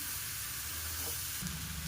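Spice paste frying in a pan for a home-style Bengali chicken curry gives a steady, even hiss of sizzling, close and moderately quiet, with a faint low thump near the end and no voices.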